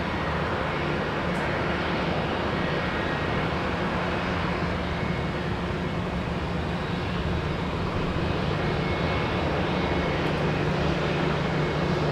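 Virgin Atlantic airliner arriving at Minneapolis–St. Paul Airport, heard as a distant, steady broadband engine rumble that holds evenly for the whole stretch with no talking.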